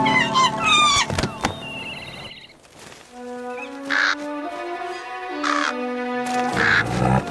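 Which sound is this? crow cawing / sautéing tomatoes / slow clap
crow cawing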